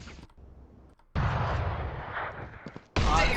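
Assault rifle fire in the game Valorant comes as sharp bursts, with a quiet stretch followed by a loud sustained volley and then another abrupt blast at the end.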